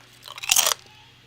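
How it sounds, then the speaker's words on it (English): A single loud, close crunch as someone bites into Kettle salt and vinegar potato chips, a sharp crackling burst lasting about half a second and then fading to quiet, with no talking. "what I love about Kettle chips is that they're just so crunchy"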